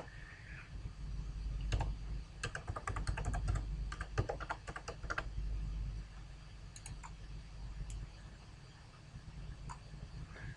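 Close keyboard typing of a Twitter login on a computer, a flurry of rapid clicking keystrokes that thins out into a few scattered taps over a quiet room hum.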